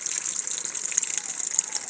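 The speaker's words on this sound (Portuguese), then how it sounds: "a água tá jorrando é pra fora." Water gushes steadily out of a washing machine pipe with a hissing, splashing rush, constant and close for the whole stretch, with no talking.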